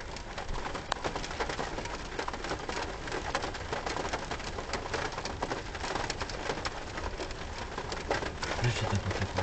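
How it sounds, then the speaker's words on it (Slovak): Steady rain falling in a dense, even hiss with scattered drops, while faint bird cooing and murmured voices sit in the background. "Áno, prší, to si sa teraz všimol. Však to počuť"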